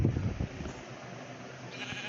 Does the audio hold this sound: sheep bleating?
yes